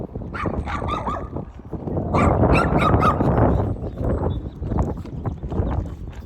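Several dogs bark loudly and repeatedly close by in an outdoor spot, with overlapping yips and whimpers forming a busy, continuous chorus throughout.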